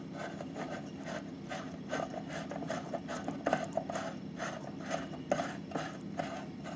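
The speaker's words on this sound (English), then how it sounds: "I use a screw socket, Edison screw, which I can screw in an adapter" Quiet, close clicking and scraping as an Edison screw lamp is twisted into a bayonet adapter on a vintage lamp test rig, a string of small irregular ratcheting clicks with no speech.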